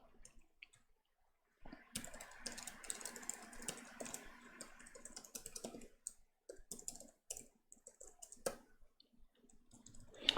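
Rapid keystrokes on a computer keyboard while entering a chatbot command, steady clicking bursts with short pauses, fairly quiet and close.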